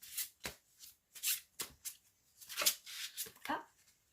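Tarot cards are shuffled by hand in a series of quick riffling bursts and flicks, separated by short pauses, close and crisp.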